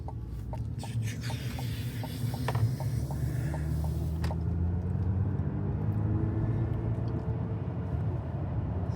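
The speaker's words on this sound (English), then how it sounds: "here's an example of me just taking a left turn and accelerating in my Silverado" A Chevrolet Silverado EV accelerates through a left turn, giving a smooth rising electric motor whine with low road rumble and a few faint clicks early on, continuous and fairly close.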